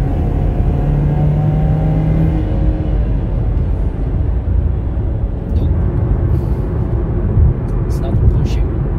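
Car with a rebuilt LTG 2.0T engine driving and accelerating, a steady loud engine rumble with rising tonal whine early on and continuous road noise throughout, close inside the vehicle.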